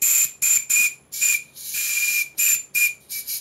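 A Stuart model steam plant whistle blown in a series of sharp, shrill toots of varying length, one longer sustained blast in the middle, close and loud with airy hiss.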